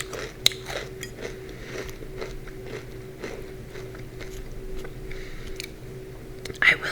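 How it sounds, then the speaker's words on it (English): Close crunchy bites and chewing on a salad crouton in a quiet room, giving a steady run of small dry crackles with one louder crunch near the end. "Crunchy crouton."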